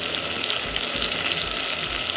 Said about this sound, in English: So we are going to add little water, then we simmer.